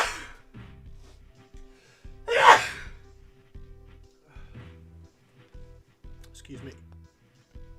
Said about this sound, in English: I did not mean to sneeze quite so much.